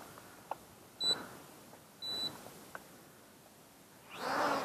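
A single short electronic beep from an FQ777 955C quadcopter drone switching to low rate, heard faintly at night outdoors before a louder rushing burst near the end.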